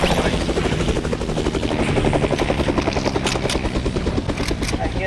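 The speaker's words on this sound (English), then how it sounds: "And then get back to Dad's chopper." A helicopter in the video game Fortnite thumps with steady, rapid rotor beats, close and loud throughout, while players talk over it.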